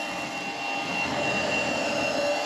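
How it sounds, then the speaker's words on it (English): A Shark Freestyle cordless bagless stick vacuum runs steadily on a hardwood floor while picking up kitty litter, giving a continuous close whining motor hum with a high-pitched tone. "And this is a bagless vacuum cleaner."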